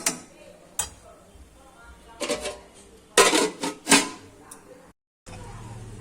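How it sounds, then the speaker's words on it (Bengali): Rice being stirred in a cooking pot for mogor polao, with scattered scrapes and metallic clinks of utensil against pot, a few louder clatters, then a pause before a steady background returns as the lid goes on. "এবার আমি একটু নেড়ে ঢাকা দিয়ে দেব।"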